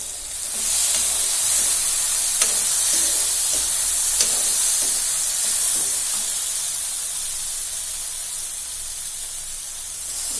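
Chiwda matar, flattened rice with peas, stirred in a hot pan, giving a steady steamy hiss and soft sizzle with faint intermittent scraping taps, close and alone without talk.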